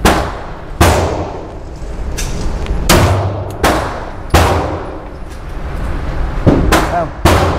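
Police handguns fire at a California shooting range: about eight sharp, loud, close shots spaced irregularly, each ringing out with a metallic clang and echo, with faint talk in the pauses.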